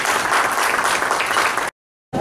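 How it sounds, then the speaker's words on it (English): Applause at a political endorsement event, a dense steady round of clapping that fills the space loudly before cutting off abruptly into silence, then briefly resuming. "Let's give another round of applause."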